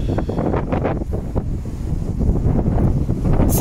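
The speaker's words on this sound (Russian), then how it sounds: "сильный ветер" Heavy wind buffeting the microphone, a constant loud low rumble with gusty surges throughout and no voices.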